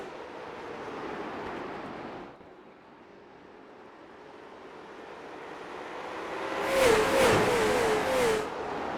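Late model stock cars accelerate at a race start on Langley Speedway in iRacing, a steady engine drone that swells louder and higher toward the end, with no talking.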